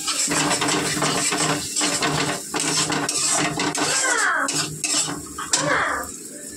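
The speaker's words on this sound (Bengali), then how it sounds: "মশলা কিন্তু ভালোভাবে কষে যাচ্ছে দেখো" Masala spices sautéing in a pan for rohu fish, a loud close sizzle with repeated clanks and scrapes of a spoon against the metal pan as the paste is stirred, with no talking.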